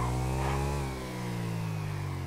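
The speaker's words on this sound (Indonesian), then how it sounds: "Don, cobain motornya Don" A motorcycle engine revs steadily during a test ride for road-race practice, a loud, close mid-pitched drone that dips briefly and then holds on again, with no talking.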